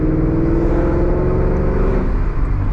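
A 2018 Mustang GT with a Corsa Sport catback exhaust drones loudly and steadily close by, a deep V8 rumble holding a constant pitch with no voices over it.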